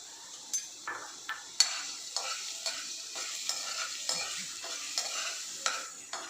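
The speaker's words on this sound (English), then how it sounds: "Let it saute for a minute or so." Mashed garlic sizzling in hot oil in a pan for veg khow suey, a steady bright frying hiss broken by regular stirring scrapes about every half second, close and alone.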